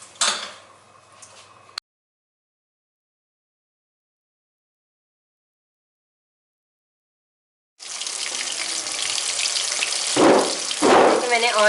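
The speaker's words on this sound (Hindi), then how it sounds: "मैंने ऑयल को मीडियम से लो फ्लेम पे जो है पहले गरम किया, फिर उसमें मैंने पीसेस डाल दिए" Pieces of marinated fish frying in oil heated over a medium-low flame: a short burst of kitchen noise, a long silence, then a steady, loud hiss and crackle with a few stronger spits near the end.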